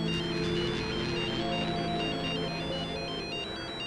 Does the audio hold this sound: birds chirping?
no